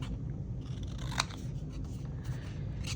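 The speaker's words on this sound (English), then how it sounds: "I'm gonna cut a square, and then I'm gonna cut it in half, cut it again" Quiet snips of scissors cutting paper, a few crisp cuts against a steady low background hum.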